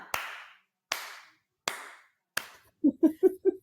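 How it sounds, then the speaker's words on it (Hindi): Four loud, evenly spaced single hand claps ring out slowly, each with a short decay, during a talk show episode. They are followed by four quick, lower, tonal thumps in a tight rhythm. No voices are heard. "तालियां."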